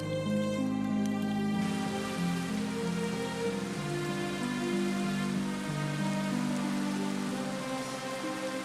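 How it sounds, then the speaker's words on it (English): Heavy rain pours steadily onto dry, dusty earth in an arid, desert-like landscape, a dense, continuous hiss of drops that stays even and close from start to finish with no voices. "Rain that falls hard, but just long enough, saturating the earth, turning dirt into mud, and then into liquid."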